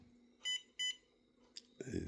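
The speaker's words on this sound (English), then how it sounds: "usually you go till it beeps on the controller" A remote-control car controller emits two short, loud electronic beeps in quick succession, followed by a brief chirp and then a burst of noisy handling sound.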